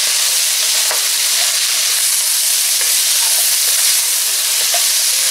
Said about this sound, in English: Scrape up any of the brown bits from the bottom of the pot.